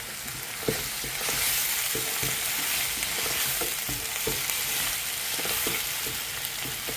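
Tomatoes and curry leaves fry in oil in a pan for a home-style curry, giving a steady bright sizzle with soft periodic scrapes and taps of stirring, close and alone without talk.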